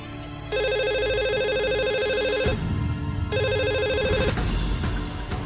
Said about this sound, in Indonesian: Bah, cepet abah itu telepon si Roy bah.